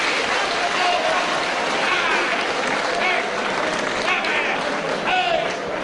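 Crowd applause at a professional wrestling bout between a wrestler and The Dynamite Kid, as one wrestler claps for his opponent; steady dense clapping and crowd noise run throughout under a commentator's voice.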